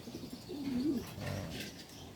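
Pigeons cooing up close, including an old breeding bird kept with two red pigeons: a soft low throaty coo swelling once and fading over a quiet background, with no voices.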